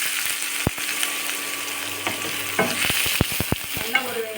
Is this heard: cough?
no